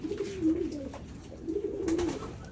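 A pet racing pigeon named Borga coos in low, throaty rolling phrases, two clear bursts close by with a short pause between, and no talking over them.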